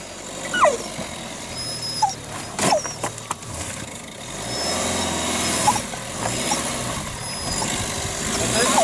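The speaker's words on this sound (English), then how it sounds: "Got all four spinning, isn't he?" A Panda 4x4 revs with all four wheels spinning in silty mud on a green lane in the Dales. The engine drones steadily and surges, while people talk nearby over it and a dog whimpers.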